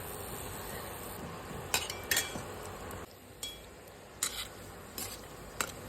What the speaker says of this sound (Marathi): गुलाबजामुन आपल्याला असे सारखे हलवत राहायचे. कलर चेंज होईपर्यंत आपल्याला तळून घ्यायचे.